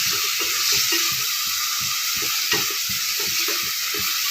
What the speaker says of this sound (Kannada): ಈಗ ಎರಡು ಟೊಮೊಟೊ ಇದು ಸ್ವಲ್ಪ ಚೆನ್ನಾಗಿ ಬಾಡಿಸ್ತೀವಿ